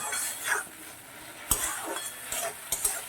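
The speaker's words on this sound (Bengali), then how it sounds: "গ্যাসের রসটা কমিয়ে দিয়ে এবার এটাকে আস্তে আস্তে নেড়ে আমি রান্নাটা করে নেব" A spoon scrapes and stirs taro leaf curry with chickpeas in a pan over a low flame, with a steady soft sizzle and a few sharp clinks against the metal, close and unhurried.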